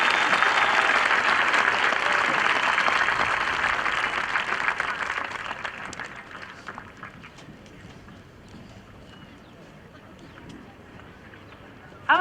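Audience applause for honors graduates at a high school graduation ceremony, a dense, loud burst of clapping that gradually thins and fades over the second half, leaving scattered claps.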